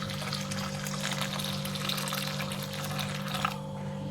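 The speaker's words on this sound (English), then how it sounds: "I'm adding hot water now" Hot water poured steadily into a pot while making pap, a smooth continuous flow that runs for several seconds and then stops, against a low kitchen hum.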